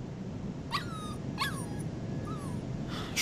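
A puppy whimpering in the video game Life Is Strange 2, three short high whines with falling pitch spaced about a second apart over a faint background hiss.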